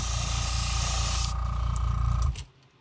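An airbrush sprays magenta paint onto the belly of a crankbait fishing lure in a steady, close hiss that holds for about two seconds before cutting off abruptly.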